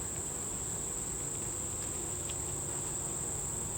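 Honey bees buzz during a hive inspection, a steady low insect drone that fills the whole stretch at moderate volume, with a constant high whine above it and no voices.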